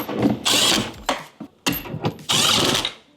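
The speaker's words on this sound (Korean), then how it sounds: "이렇게 드릴로 대략적인 위치만 맞춰주시고요." Power drill driving window bolts on a Tesla Model 3 Highland door, three close, loud whirring bursts with short pauses between them and clicks in the gaps.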